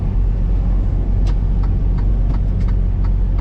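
Truck driving along a road toward a truck stop in Canada, a loud steady low engine rumble and road roar with a few faint higher clicks over it, constant and close from inside the cab.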